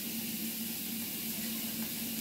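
Steady broadband rush of a cup of water pouring into a pot for cooking jasmine rice, continuous and close, with no pauses or talking.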